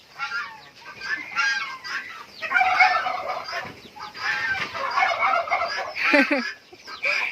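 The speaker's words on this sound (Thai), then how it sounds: "นี่ไก่งวง" Several turkeys gobble in bursts, close and loud, with other poultry clucking around them and no talking.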